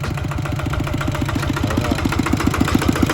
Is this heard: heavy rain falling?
no